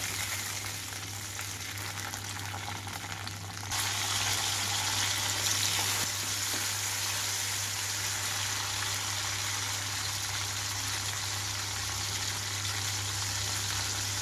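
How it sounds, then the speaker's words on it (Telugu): Red chillies fry in hot oil over a medium flame, a steady close sizzle with a low constant hum beneath, growing a little louder and brighter partway through and holding on without talk. "నేను మీడియం ఫ్లేమ్లో ఉంచి పండు మిర్చి అంతా వేయించుకుంటున్నాను"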